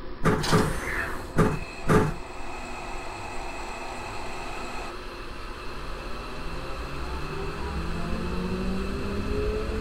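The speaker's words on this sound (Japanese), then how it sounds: "ドアが閉まります。" Subway train doors on a Seibu 40000 series set thud shut on the Yurakucho Line in the BVE5 train simulator, with two or three sharp clunks close together followed by a steady electrical hum and whine.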